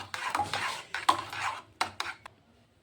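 A homemade papaya and raw turmeric soap mixture with glycerin stirred in a small container, producing a series of close clinks and scrapes of a spoon against the vessel in uneven bursts, then fading to quiet.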